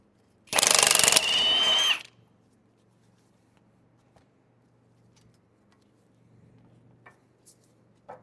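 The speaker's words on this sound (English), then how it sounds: "we're just going to go ahead and zip out the two caliper bracket bolts" An impact tool zips out a Jeep JK caliper bracket bolt in one loud, close burst of about a second and a half, followed by a quieter winding-down whir, then near silence with faint clinks.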